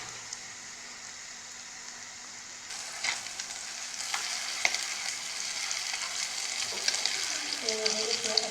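Shami kababs made without egg sizzle steadily in a frying pan, a continuous crackling hiss that grows busier and louder partway through, with occasional sharper pops and spatters.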